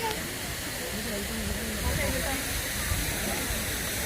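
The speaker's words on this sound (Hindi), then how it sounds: "अगर ये देख लें आबशार है," A waterfall roars as a steady broadband rush at a scenic spot in the United Arab Emirates, with someone talking over it throughout.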